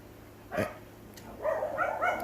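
Indoor dogs let out a sharp bark, then a quick run of higher yips and barks a little way off, over a quiet room hum.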